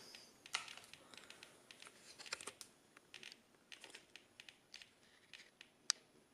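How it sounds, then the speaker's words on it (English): A Geiger counter's faint, irregular clicks tick away one after another at an uneven pace, with quiet gaps between them and no talking. "you can hear the Geiger counter clicking away over there"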